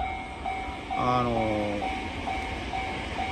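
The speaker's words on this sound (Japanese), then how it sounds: "今度来る上り線の電車は間違いなく普通電車です" A local commuter train rumbles past the Tsukuda level crossing in Ōyamazaki, Kyoto, with a steady crossing bell chiming and a brief horn-like tone, loud and close, while a voice speaks briefly.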